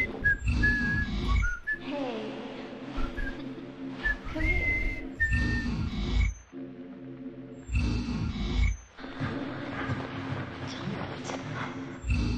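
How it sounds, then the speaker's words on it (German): A whistled melody from the video game Deadly Premonition, with clear tonal phrases over soft backing music that drops out in short gaps. "Das Gepfeife ist jetzt ein Ohrwurm."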